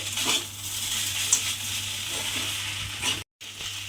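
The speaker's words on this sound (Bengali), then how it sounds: "দিয়ে এবার সমস্ত কিছু খুব ভালোভাবে মিশিয়ে আবারও কিন্তু একটু ভাজা ভাজা মতো করে নিতে হবে।" Flattened rice with peanuts and slit green chillies fries in a pan on a gas stove, giving a continuous close sizzle and crackle with a few stirring scrapes, briefly cut to silence near the end.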